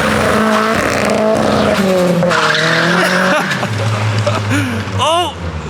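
A turbocharged SR20DE engine revs hard on a dyno, loud and close, its pitch climbing and dropping through several pulls. Voices talk over it.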